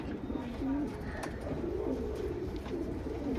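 A Sabja Cheni pigeon pair coos in low, repeated throaty phrases, fairly close and steady, with a soft background hum and no talking.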